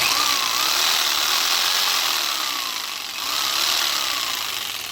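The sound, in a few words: skill saw running on a truck inverter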